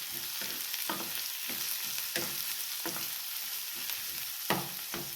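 Chopped onion and cumin seeds frying in oil in a pan, a steady sizzle with regular scraping strokes of a spatula stirring them, close and clear with no talking.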